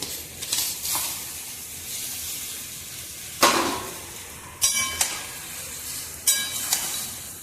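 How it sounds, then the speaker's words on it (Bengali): Dry pasta tipped into a pot of simmering milk for white sauce pasta, giving soft bubbling and stirring with a few sharp clattering scrapes and bursts, no talking. "আর এবারে পাস্তাগুলো আমরা দিয়ে দিচ্ছি"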